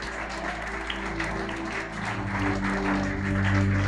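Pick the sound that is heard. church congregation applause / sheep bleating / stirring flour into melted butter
church congregation applause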